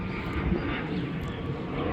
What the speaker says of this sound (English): Airplane decided to fly right over right now.